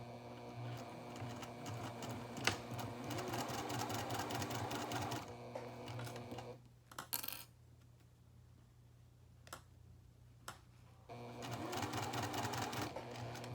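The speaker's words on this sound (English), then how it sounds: "And again, we will be back stitching here as well." A sewing machine back stitching a seam on a toiletry bag whirs steadily for several seconds. It stops briefly, gives a few isolated clicks, then runs again, soft and close.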